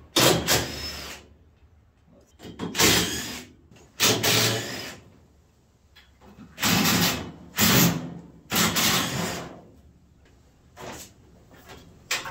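A plexiglass panel is pulled off an M151A2 jeep, heard as repeated rubbing, scraping and thumping bursts of plastic against metal, close and moderately loud, with no talking.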